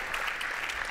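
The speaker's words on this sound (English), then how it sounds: "Big round of applause for her as well." Audience applause at an awards event for startups in Barcelona, a steady wash of clapping held evenly through the whole short moment with no pauses.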